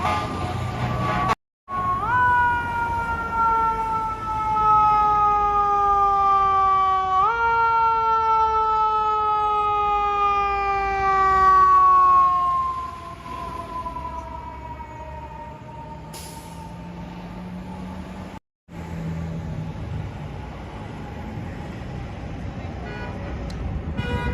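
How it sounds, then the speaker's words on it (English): Fire truck sirens wailing along 34th Street in Midtown New York, a loud sweeping siren tone that shifts pitch as the truck passes, then fades to low city traffic rumble. "we got a fire truck making its way down yonder"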